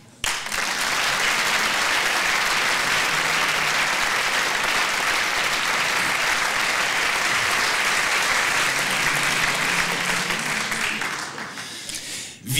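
An audience gives sustained, warm applause for a chamber sextet at an evening concert, a full, even roar of clapping that holds for about ten seconds before tapering off.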